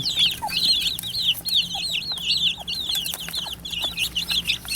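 Baekbong silkie chicks eating cucumber peep in quick, repeated high chirps. The calls sound fairly close but soft, over a quiet background.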